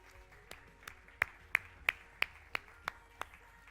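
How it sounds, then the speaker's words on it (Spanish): A small church congregation claps along in a steady rhythm, about nine distinct hand claps spaced evenly and growing louder, alone without talk. "Dele un fuerte aplauso al Señor en este día."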